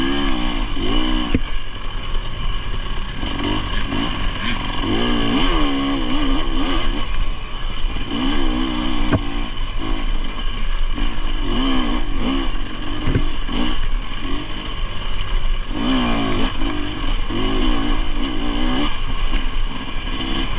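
Dirt bikes race fast along Pacific Northwest singletrack trails, a loud, constant engine drone with repeated revs rising and falling as the riders accelerate, close and unbroken.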